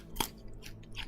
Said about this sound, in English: They don't want to hear me crunching.